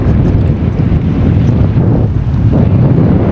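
Strong wind buffets the microphone beside an abandoned ship by the water, a steady loud roar with rushing gusts and no voices.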